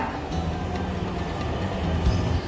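A Dhaka metro rail train on the Uttara–Agargaon line, near Mirpur 11, running at speed during a timetable test, heard from inside as a steady low rumble with rhythmic wheel rattle throughout.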